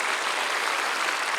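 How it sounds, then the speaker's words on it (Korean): Church congregation at a Korean worship service applauding, a dense, continuous wash of clapping throughout the short moment, loud and without speech on top. "그분들에게 박수를 보냅시다."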